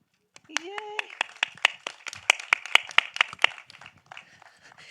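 A small audience claps for a film director, a sparse run of distinct close handclaps that gather pace and then thin out, with a voice speaking briefly over the start.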